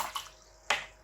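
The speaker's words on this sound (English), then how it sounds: "Cleaning my brush" A watercolour paintbrush rinsed in a water jar gives a couple of soft swishes followed by a sharper splashy clink, close and quiet, with no talking.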